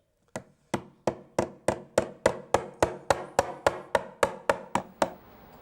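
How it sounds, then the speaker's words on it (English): A hammer's sharp end strikes a bent-over nail to cut it off, about fourteen evenly spaced, crisp blows landing close by in a steady rhythm. "I should be able to cut it off with the sharp end of the hammer"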